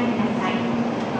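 A Shinkansen bullet train at Osaka station gives a steady, fairly loud rumble with a sustained tonal hum, continuous across the moment without breaks.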